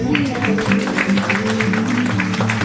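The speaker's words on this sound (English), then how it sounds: "can motivate them with your clapping." Audience clapping steadily and densely for a skater group holding colorful pom-poms at a summer camp show, continuous throughout over a sustained musical tone.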